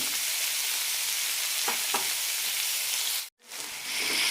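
Tomatoes sautéing in a pan for an urad dal tomato chutney give a steady broadband sizzle, with a couple of soft stirring scrapes midway and a brief drop to near silence before the frying resumes.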